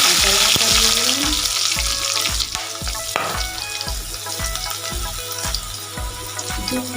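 Five-spice, garlic and green chili fry in hot oil for Malabar spinach stalk chochori, a loud steady sizzle with rhythmic low thumps and clinks of stirring throughout, close and continuous.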